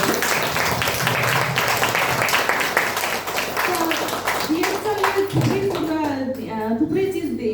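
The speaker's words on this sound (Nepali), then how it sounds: "त हाम्रो डिएक्सन प्रोडक्टको लागि एकचोटि जोरदार ताली हुन पर्यो" Loud, steady applause and clapping from an audience at a DXN products gathering, dense and continuous throughout, with voices mixed in and a tonal voice emerging near the end.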